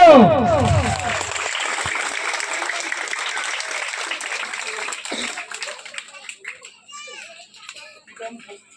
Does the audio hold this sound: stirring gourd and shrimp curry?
no